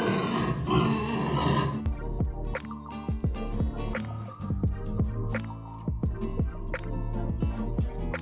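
A pig on a farm grunts and oinks in a string of short, repeated snorts after a brief burst of music, fairly close and clear.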